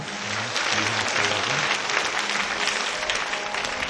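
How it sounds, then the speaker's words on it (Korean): A church congregation applauds an infant baptism, the clapping dense and steady at close range for the full four seconds, with faint voices beneath. "여러분 뜨거운 박수로 축하해 주시기 바랍니다."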